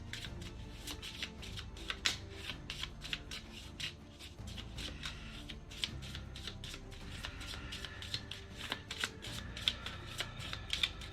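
A deck of Thunderstone Quest cards is shuffled by hand in a quick, steady run of crisp riffles and snaps that continues throughout, close up, with no talking.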